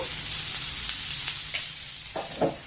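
Thinly sliced onions fry with salt in a pan. A soft, steady sizzle and hiss runs throughout, broken by a few light scrapes and taps of stirring.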